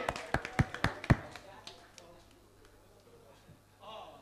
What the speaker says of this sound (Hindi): एक बार जोरदार तालियां सुष्मिता मुखर्जी के लिए